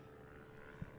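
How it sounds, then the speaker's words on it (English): A helicopter drones steadily overhead at a super late model race at the Bullring at Las Vegas Motor Speedway, a low continuous rotor rumble filling the background at moderate distance. "I hear a helicopter."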